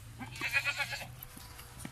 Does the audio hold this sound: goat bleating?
yes